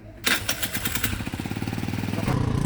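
A motorcycle fuelled with 95-octane petrol is kicked into life with a sharp burst, then settles into a rapid, steady putter of engine firing that grows slightly louder and rougher toward the end, close to the listener.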